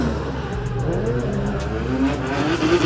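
A drift car heats its tires at a French drift championship round, its engine droning loudly and continuously with rising revs and faint tire squeal, heard from trackside.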